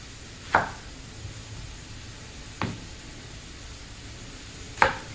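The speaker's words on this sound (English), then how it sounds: "we will chop up an onion and go ahead and throw it in there with the ground beef." A knife chops a medium-to-large onion on a cutting board as ground beef browns nearby, giving three sharp, separate chops spaced a couple of seconds apart over a quiet background hiss.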